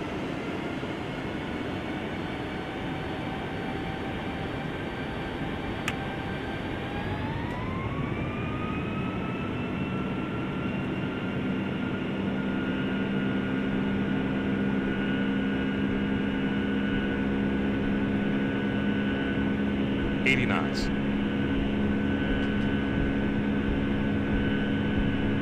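A QualityWings 757-300 takes off in a flight simulator game, its jet engines holding a steady rumble with a whine that rises in pitch as thrust builds. The sound continues evenly and loud, with a brief click near the end.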